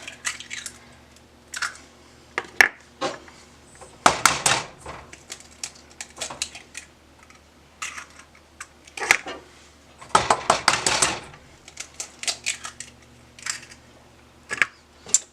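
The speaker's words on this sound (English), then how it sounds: "crack it on the side while folding the shell in and letting the yolk slip out" Eggs are cracked on the side of a bowl, with scattered sharp clicks and clacks of shell against the rim and bursts of clattering bowl and utensil noise, close and moderately loud.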